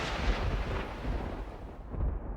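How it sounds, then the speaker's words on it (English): A thunder crack during a storm overhead sounds as a loud, close, broad rumbling roar that fills the clip and slowly fades toward the end. "A deafening crack of thunder rattled the air."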